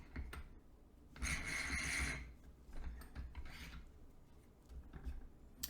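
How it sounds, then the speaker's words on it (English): A spinning wheel part scrapes and rubs against metal screws in uneven rasping bursts, with one longer grinding stretch and several shorter scratchy strokes, close and fairly quiet. "it's rubbing on the other metal screws, and that's not very nice for you to have to listen to"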